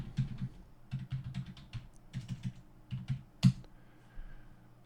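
Typing on a computer keyboard, heard up close as quick bursts of crisp key clicks with short pauses between words and one louder keystroke near the end, in a quiet room without speech.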